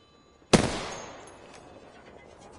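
A single loud gunshot in Apex Legends, close and sharp, with a short ringing tail that fades over a couple of seconds amid quiet game ambience.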